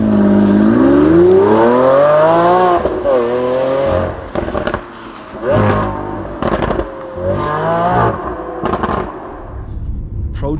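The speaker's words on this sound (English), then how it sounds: "there the V12 comes to life" A Lamborghini Aventador SVJ's 770 hp V12 revs hard and close, pitch climbing in a long sweep and then a run of sharp blips and rising pulls, with crackles and pops between gear changes of the single-clutch transmission.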